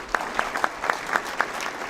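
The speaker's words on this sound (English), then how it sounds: "let's give another good applause for the congressional folks coming up." Modest applause at a county economic development candidates' meeting: a handful of distinct claps ring out in a loose rhythm over a soft background of other hands, fairly quiet and brief.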